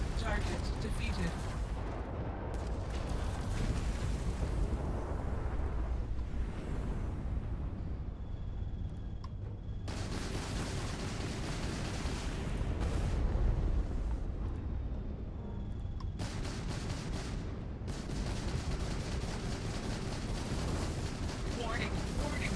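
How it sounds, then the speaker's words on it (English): Incoming weapon fire in the space game Starfield, a dense run of heavy booming blasts and rumbling impacts that stops and starts in bursts, with a voice speaking over parts of it. "Warning, warning, incoming fire."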